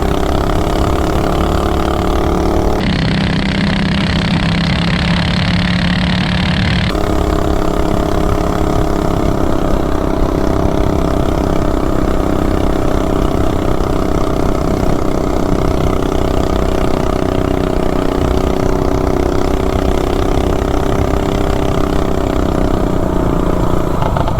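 A Big Block 420 engine fitted with a 30 Series torque converter cruises along, its steady mid-pitched drone holding constant and loud with little change in revs and no voices.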